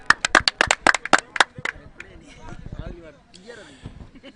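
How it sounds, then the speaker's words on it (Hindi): An audience at an outdoor cricket match event in Surat gives a burst of brisk applause for about a second and a half, then it fades as an announcer talks over a loudspeaker. "एक बार फिर से कमल जी के लिए जोरदार तालियां।"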